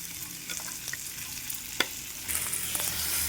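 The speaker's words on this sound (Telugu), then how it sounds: "చక్కగా ఈ పోపులో మనము మిక్సీ చేసి పెట్టుకున్న ఈ చట్నీ పచ్చడిని వేసేస్తున్నాను" Ground drumstick-leaf and curry-leaf chutney hits hot tempering oil in a pan, giving a soft, steady sizzle and crackle up close, with a few sharper pops and a louder hiss near the end.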